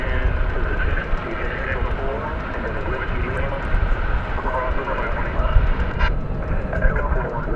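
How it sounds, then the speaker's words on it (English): A Delta Airlines jet arriving at DFW Airport from Salt Lake City gives a loud, steady engine roar that holds for the whole stretch, with voices faintly mixed into the din. "Another flight's coming in from, this one's going to be from Delta Airlines. And it'll be coming in from Salt Lake City."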